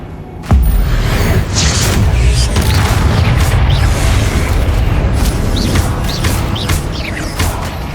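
Blasting spell explosions in the video game Hogwarts Legacy: a heavy boom starts the clip, then continuous rumbling bursts and crackling impacts keep up loudly the whole way through.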